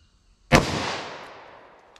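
A single sharp gunshot from a .357 Magnum snub-nose revolver fired at an outdoor range, loud and close, with a long echoing decay trailing off over the next second and a half.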